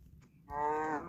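A single drawn-out, low cartoonish moo from a Minecraft cow rings out clearly after a quiet, faintly murmuring start, steady and close.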